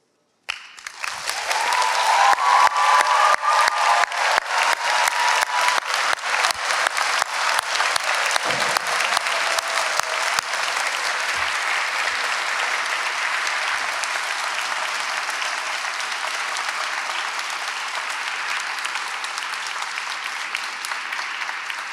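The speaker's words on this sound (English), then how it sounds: "lead a big round of applause to them" At the UNYP 2024 graduation ceremony, a large hall audience breaks into applause that starts abruptly, peaks early and then continues as a long, dense, even wash of clapping.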